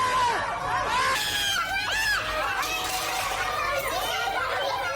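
Students scream and shout in a dark university hallway, high frantic cries rising and falling continuously over a dense, chaotic crowd din with chatter, close and loud throughout.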